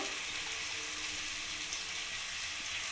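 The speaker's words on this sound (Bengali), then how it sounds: "আমি ভালো করে মশলাটাকে নাড়িয়ে এবং কষিয়ে নেবো ভালো করে পেঁয়াজ আদা রসুনের সাথে" Onion, ginger, garlic and spices with turmeric and cumin being stir-fried for palak paneer, a steady close sizzle of frying in the pan with faint stirring underneath, no talk.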